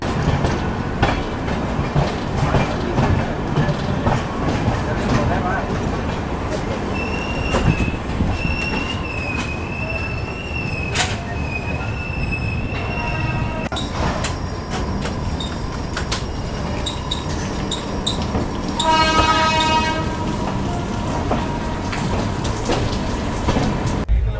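The Swarna Jayanti Rajdhani Express pulls out of New Delhi in light rain with a steady rolling rumble and clickety-clack. Wheel squeals and a long horn blast rise over the noise, which stays loud and close throughout with no talking.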